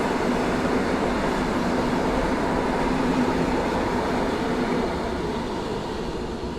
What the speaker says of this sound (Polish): Przelot pociągu PKP Intercity Wysocki do Katowic